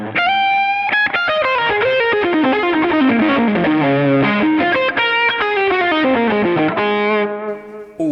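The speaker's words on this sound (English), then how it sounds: "that's stereo tape delay, which I've got after the cab" Electric guitar played through a Fractal unit with stereo tape delay placed after the cab, dense distorted notes and chords ringing continuously with echoing repeats that smear into one another before fading at the end.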